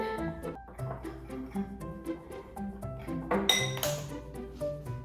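Spoon clinking and scraping against a bowl while cookie dough is mixed, a quick run of light chinks and clatters over steady background music.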